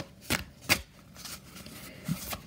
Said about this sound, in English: I'm just going to give these cards a shuffle.